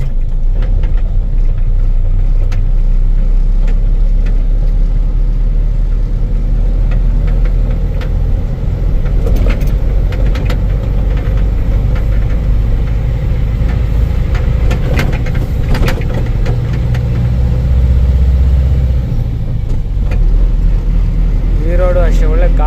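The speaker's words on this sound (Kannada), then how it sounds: "ನಾನು ಒಬ್ಬನೇ ಗಾಡಿ ಓಡಿಸ್ತಾ ಇದ್ದೀನಿ" A truck carrying a load of capsicum drives along the Tarikere to Chikkamagaluru road, its engine and road rumble loud and steady throughout, with someone talking over the drone.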